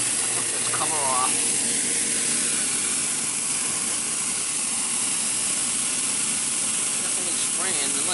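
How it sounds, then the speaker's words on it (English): A pump sprays steam into a bakers' proofing box for humidity, making a continuous, fairly faint hiss over a machine hum, with brief squeaky tones near the start and end. "That's the steam spraying in, that's the pump right here"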